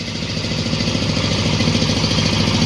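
A 30 hp Dong Feng engine on a corn sheller runs steadily on a test start, a loud close chugging idle with a fast, even pulse and clattery mechanical texture throughout.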